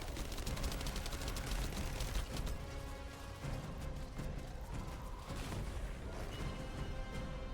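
Rapid, dense weapon fire from an assault turret in the video game The First Descendant, a continuous heavy barrage of booming shots that holds steady throughout without pause.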